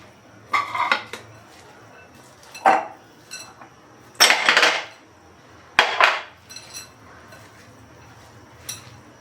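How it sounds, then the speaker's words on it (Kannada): A spoon scrapes and clanks against a pan while ginger, onion, carrot, beans and capsicum are stirred together, in several distinct bursts of metallic scraping separated by brief pauses, close and fairly loud with no talking. "ಇದು ginger, onion, carrot, beans, capsicum ಎಲ್ಲನೂ ಮಿಕ್ಸ್ ಮಾಡ್ಕೋಬೇಕೀಗ"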